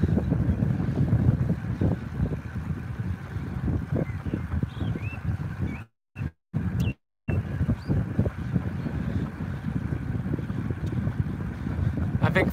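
Strong headwind buffets the microphone during a fast outdoor 3000m run, a loud continuous roar with gusty rumble broken by brief dropouts midway.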